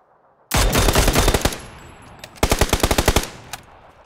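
Automatic gunfire in PUBG: a loud, dense burst of rapid shots, a short lull, then a second quicker burst of about ten distinct cracks followed by a single trailing shot.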